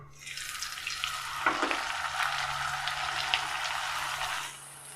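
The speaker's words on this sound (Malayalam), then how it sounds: "ഇനി ഇതിലേക്ക് നമുക്ക് ഓരോന്നായിട്ട് പൊരിച്ചെടുക്കാം" Puri dough drops into hot oil and erupts into a steady, bright sizzle of deep-frying that continues loudly, then cuts off.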